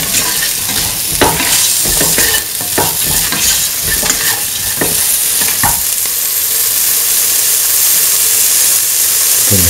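Red chilli and cauliflower pieces frying in a pan while being stirred for a coconut milk vegetable rice, giving a steady loud sizzle and hiss with repeated scraping stir strokes in the first half, then a smoother, continuous frying hiss.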